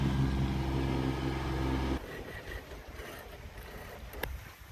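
A sailing boat moves across open water, with a loud steady low rumble of wind and hull noise for the first two seconds, then a quieter wash of water with light splashes and a faint click near the end.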